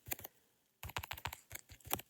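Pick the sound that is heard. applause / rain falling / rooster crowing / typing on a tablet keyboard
typing on a tablet keyboard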